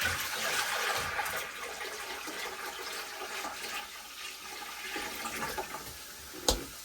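Water poured into a cooking pot, a steady broadband rushing pour running close and continuous, ending with a brief clunk near the end.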